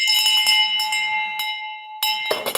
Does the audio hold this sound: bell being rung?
yes